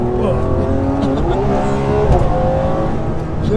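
A Ferrari 599 GTB's V12 revs loud and close, its harmonics rising and falling through repeated throttle blips with a steady roar underneath and no clear talk over it.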